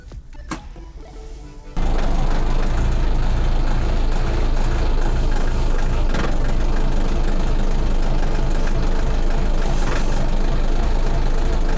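A Foton 354 mini tractor engine cranks briefly, then catches and roars into a loud, steady running drone that continues to the end.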